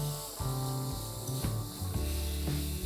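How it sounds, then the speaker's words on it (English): Grated coconut and sugar sizzle softly in a pan while being stirred, with repeated scraping strokes and a low steady frying hiss for a few seconds. "Into this, let's add some grated coconut and some sugar. We just need to cook this till the sugar melts."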